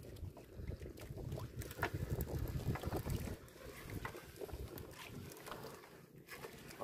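Engine of a traditional Filipino fishing boat running out at sea: a faint, steady low rumble mixed with wind and water noise, continuing without a break.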